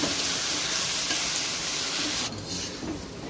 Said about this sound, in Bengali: মশলা খুব ভালো করে কষিয়ে নিয়েছি।